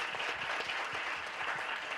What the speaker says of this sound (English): Let's hear a warm round of applause for our guests.